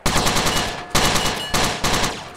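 Automatic gunfire in a GTA San Andreas Multiplayer PvP match crackles loudly in four rapid bursts, each a fast run of shots that fades before the next burst.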